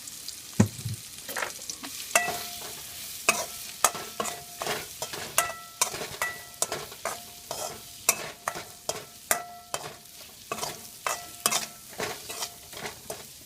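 Brinjal frying in ghee in a wok, stirred with a spatula that scrapes the pan in quick, regular strokes over a constant sizzle, loud and close throughout with no talking.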